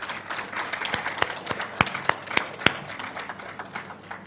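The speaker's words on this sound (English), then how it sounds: "Please give them a warm round of applause." Scattered audience applause at a civil servants' awards ceremony, a few sharp individual claps standing out over a softer steady patter, moderately loud throughout.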